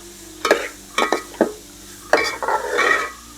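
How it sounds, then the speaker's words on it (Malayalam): Onions for a Cherthala-style chicken perattu are stirred in a pan until browned, with several distinct scraping strokes of a spoon against the pan over a soft, steady sizzle of frying. "സവോള നന്നായി ബ്രൗൺ കളർ ആവുന്നത് വരെ ഇളക്കി കൊടുക്കണം."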